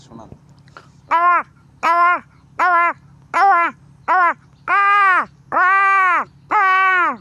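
A man imitates a crow's caw with his voice, giving eight loud, harsh calls in a steady series, the later ones longer and drawn out, over a faint low background hum.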